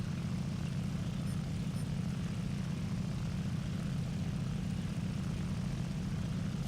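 A propeller aircraft engine from the video game War Thunder drones loud and steady throughout, a continuous low rumbling roar with no voices.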